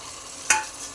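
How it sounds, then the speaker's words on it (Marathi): Eggs are stirred into spicy masala in a hot pan for egg biryani, giving two short scraping clatters over a faint, steady sizzle. "अंडे चांगले मसाल्यात एकजीव करून घेऊया।"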